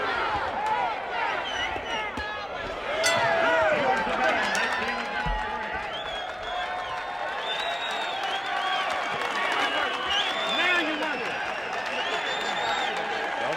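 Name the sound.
boxing crowd cheering in Nashville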